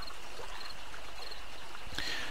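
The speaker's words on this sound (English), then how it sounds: "I can hear something. That might just be the water." Steady rushing and trickling of flowing water in 7 Days to Die, a constant broad wash with faint chirps over it and a brief brighter splash near the end.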